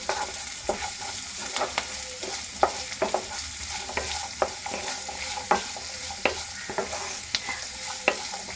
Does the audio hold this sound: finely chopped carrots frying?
yes